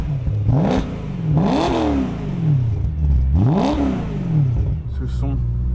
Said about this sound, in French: Ah, le moteur, ce V8, 4 litres 4.